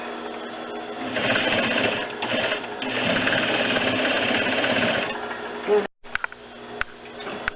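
Sewing machine stitching a bulky lycra collar onto a vest, a fast steady motor whirr with a rapid needle chatter for about five seconds, then a brief cutoff and a few isolated clicks.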